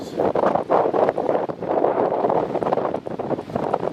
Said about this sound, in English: Gusting really picked up a lot just in the last minute.